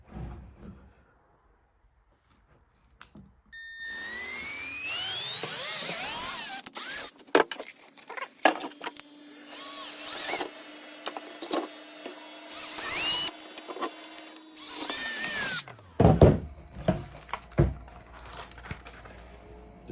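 After a quiet start, a power drill whirs in several bursts drilling pilot holes in a Ford F-150, its motor pitch rising and holding steady, with crinkling and handling noises between runs.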